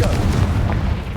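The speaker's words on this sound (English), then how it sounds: "Confringo!" Confringo fire spell blast in the Hogwarts Legacy game, a loud booming explosion with a rumbling low burst that sustains briefly and fades.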